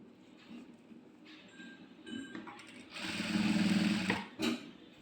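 Sewing machine stitching a maxi top, a quiet background before a rapid rattling run of stitches lasting about a second, then a brief final burst.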